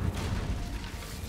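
An Incendio fire spell is cast in the Hogwarts Legacy video game, giving a steady, roaring burst of flame and rumble that fills the whole moment without pause or voices.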